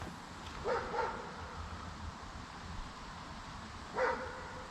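A dog barks by a quiet river during autumn perch fishing: two quick barks, then a single bark a few seconds later. The barks are faint and distant over a steady outdoor hush.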